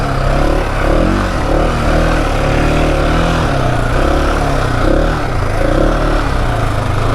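Loud single-cylinder engine of a Husqvarna 701 Enduro motorcycle riding through sand, revving up and down in wavering pitch close by.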